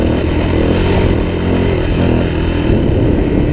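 A Suzuki DRZ400e enduro motorcycle engine drones continuously while being ridden over choppy rocky trail, loud and close, with a rough, clattery mid-range roar that holds steady throughout.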